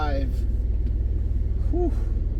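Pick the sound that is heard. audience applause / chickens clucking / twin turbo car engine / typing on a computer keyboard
twin turbo car engine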